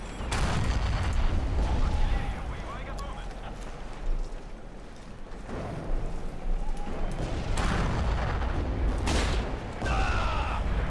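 Mortar and gunfire in the World War II shooter Forgotten Hope 2: several heavy booms and cracks, some near and loud, others further off, over a constant battlefield rumble, with someone talking over part of it.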